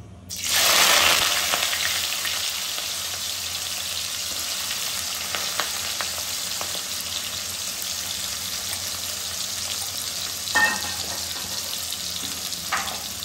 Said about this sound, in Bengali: তো তেল গরম হয়ে গেছে বন্ধুরা, এবার আমরা পেঁয়াজ কুচিটা এর মধ্যে দিয়ে দেবো।